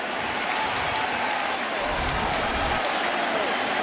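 A baseball stadium crowd, many on their feet during a Padres vs Yankees game, keeps up a steady roar of cheering and applause that swells slightly midway.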